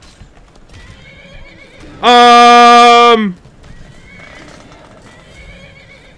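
A loud, drawn-out whinny from a burning horse in Skyrim rises out of quieter background noise, with faint hoof clops and a brief murmur around it.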